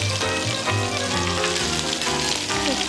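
Chopped onion sizzles and fries steadily in hot oil in a pan, a loud, continuous crackling with faint stirring throughout.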